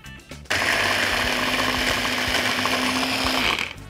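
Samu Giken electric kitchen chopper slicing onions on its turbo setting, a loud steady high-speed motor whine with blade clatter that starts abruptly, runs about three seconds, then winds down, close up with no talk.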